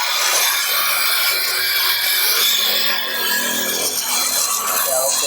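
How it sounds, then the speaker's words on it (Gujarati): A pressure washer machine sprays during cleaning, producing a steady, loud, bright hiss that runs unbroken throughout with slight shifts in tone. "ચાલો સાફ થઈ ગયા મસ્ત આ પ્રેશર મશીનથી।"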